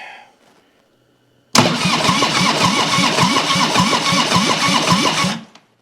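A 1997 Harley-Davidson Springer Softail engine cranking over on the starter: a loud, rhythmic chugging that runs steadily for about four seconds without catching, then stops.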